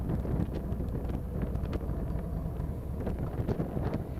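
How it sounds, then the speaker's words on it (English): Riding a motorcycle with wind buffeting a built-in microphone, a rough continuous rumble with gusty bursts and low engine drone underneath, fairly loud and close. "Obviously that's how you're hearing the motorcycle and the wind noise."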